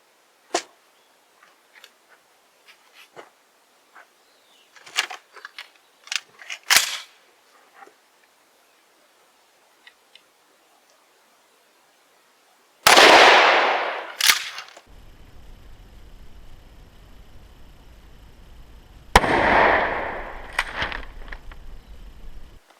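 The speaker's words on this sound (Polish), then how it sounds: "Teraz dla porównania finalnie strzelimy właśnie tym pociskiem stalowym, zobaczymy jaka będzie różnica." Shotgun firing a steel armor-piercing slug at a test dummy; two loud, sharp blasts several seconds apart, each with a long ringing decay, after quieter clicks and handling sounds.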